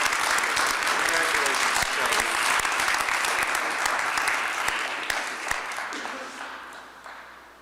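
An audience at a mayor's community service awards ceremony gives a sustained round of applause that gradually tapers off toward the end.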